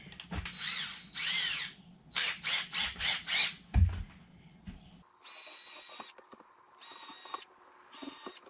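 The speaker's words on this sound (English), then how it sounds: "Now I gotta get a drill in there and drill them." A power drill whirs in several short bursts, pausing between each, followed by louder, higher-pitched drilling runs with brief gaps and clicks, while drilling into ShelterLogic shelter end panels.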